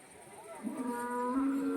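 A calf gives a drawn-out, nasal moo close by at a cattle market, rising over a low murmur of background noise.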